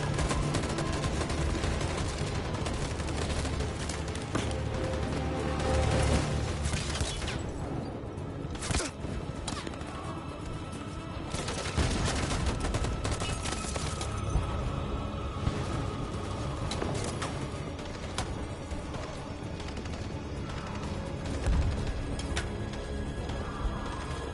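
A sustained volley in Detroit: Become Human after an order to fire, with overlapping shots crackling continuously and loudly for over twenty seconds, thinning briefly in places before resuming.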